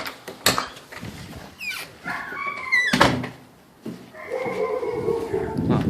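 Neighbor's dogs barking at dogs in a backyard, sharp barks and whining yelps in bursts, mixed with thumps and brief talk nearby.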